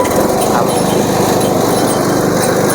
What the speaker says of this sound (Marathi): जनरेटर चालू केला आणि हा ऊस इथे टाकला